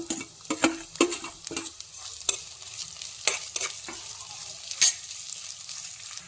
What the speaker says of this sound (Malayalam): പകുതി സവാള അരിഞ്ഞത് കൂടി ഇട്ട് വഴറ്റാം.